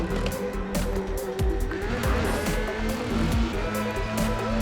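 A race car in a racing video game slides loose, its engine droning steadily while tires squeal in rising and falling whines, continuous and fairly loud.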